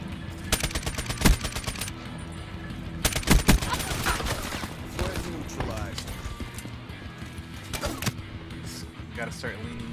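Bursts of rapid automatic gunfire from the video game Call of Duty: Black Ops 3, loud and clustered in short volleys, with a player talking over the shooting and game sound effects.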